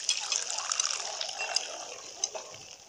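Running water with faint clinks from Hell's Kitchen in the mobile game The Simpsons: Tapped Out, a steady bright splashing loop with a few small sharp clatters, playing alone.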